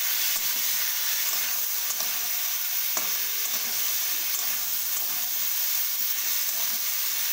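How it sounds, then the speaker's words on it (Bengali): Cauliflower florets fry in a little oil in a pan, giving a dense, constant close-up sizzle and hiss with a faint stir around the middle and no talking. "এবার ভালো করে লাল লাল করে কপিগুলোকে ভেজে নেব।"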